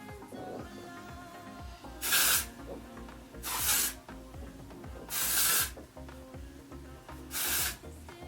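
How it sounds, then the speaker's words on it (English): Texture spray hissing from an aerosol can into the mid-lengths of hair, four separate bursts of about half a second each, close and loud over quiet background clatter. "I'm just going to spray it in through the mid-lengths of my hair"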